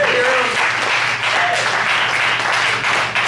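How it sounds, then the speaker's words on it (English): Steady, loud applause from a comedy club audience at a Te"Kila Comedy night, dense clapping filling the whole moment with some crowd noise mixed in. "Give yourselves a round of applause for being here."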